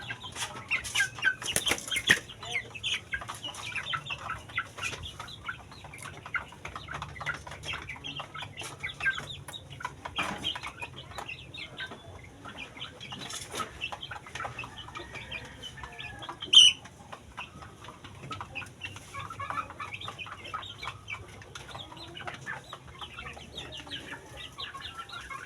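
Shamo chickens suffering from fowl pox cluck intermittently at moderate distance, with scattered scratchy background noise and one brief louder sound partway through.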